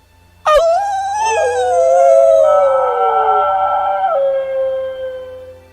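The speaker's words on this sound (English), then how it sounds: "I hear her howl echoed by two wild dogs." Wild dogs howl loudly and close, one long wavering howl joined by overlapping howls that slide and break into whimpering tones before trailing off.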